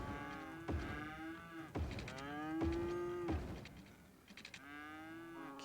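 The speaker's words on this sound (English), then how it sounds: "All the moos. Moo, moo." Cows moo in the Cities: Skylines video game, several drawn-out lowing calls following one another at a faint, steady level.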